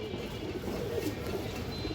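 Big-headed pigeons give a low, continuous cooing murmur, fairly loud and close, steady throughout with no talking.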